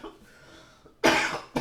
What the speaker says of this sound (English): That was a week-long cough.